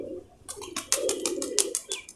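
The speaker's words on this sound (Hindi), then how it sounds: "ये कबूतर है दोस्तों।" Pigeon cooing, the soft throaty coos of a domestic pigeon kept by a hobby breeder, repeating in several short bursts close by against a quiet background.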